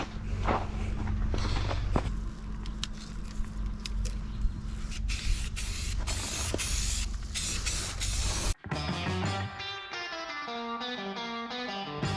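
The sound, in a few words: spray painting small pieces hung on a string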